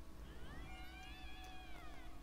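A stylized wolf-like howl emote from the character Io in the Paladins video game, a single rising and falling wavering cry, quite catlike in tone, heard alone over a low steady background hum.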